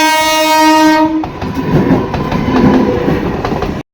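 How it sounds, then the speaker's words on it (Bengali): A train at a railway level crossing sounds a long, loud horn with steady harmonic tones for about a second, then rumbles and clatters past nearby until the sound cuts off abruptly. "তো আপ ডাউন দুটো ট্রেনই আসবে"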